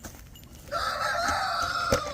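Backyard chickens around a poultry waterer, with a sustained bird call rising after a short pause and carrying on steadily, moderately close, punctuated by a brief sharp knock near the end.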